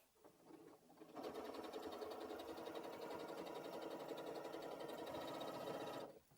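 A sewing machine with a buttonhole foot fitted runs steadily for about five seconds, stitching with a dense, even mechanical whir after a short quiet start, close and alone with no talking.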